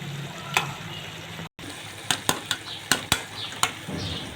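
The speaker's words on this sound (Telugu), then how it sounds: "ఆ మునక్కాడల్ని సెపరేట్ చేసి ఇలా స్మాష్ చేసుకోవచ్చు" Cooked drumsticks are smashed in tomato gravy in a pan, with several sharp taps and scrapes of a utensil against the pan over a soft sizzle.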